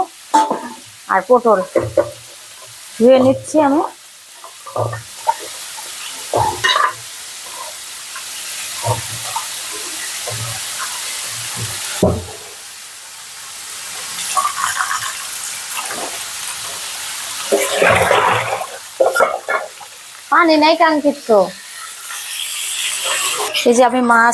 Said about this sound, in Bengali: এই যে আমি রান্না শুরু করছি মাছ ডাটা দিয়ে বড়ি দিয়ে রান্না করব